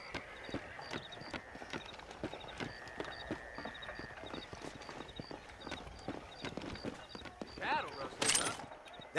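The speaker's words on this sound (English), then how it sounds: "Do you see those horses to the left by the building across the street?" Horses clip-clop in Red Dead Redemption, a steady run of hoof knocks through the clip with a brief whinny near the end, set among game ambience and talk.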